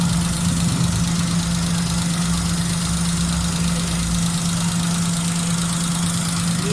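Suzuki Khyber car engine idling steadily up close after a pickup-missing and fuel fix, a continuous loud rumble with a strong low hum and faint knocking texture throughout, no voices.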